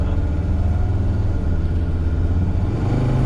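A 2003 Mercedes Sprinter van's engine pulls hard under acceleration, a steady, close, loud rumbling drone holding throughout.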